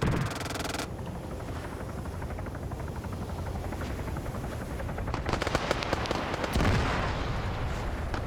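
A video game police crackdown operation, with a deep blast rising out of continuous rotor-like drone and scattered automatic fire, loud and fairly close amid the battle noise.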